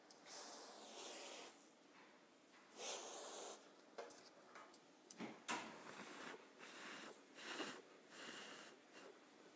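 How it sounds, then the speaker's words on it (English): Freeze spray is sprayed onto a circuit board in a series of sharp hissing bursts of varying length, close and fairly quiet, separated by short pauses. "what happens when I actually use the free spray?"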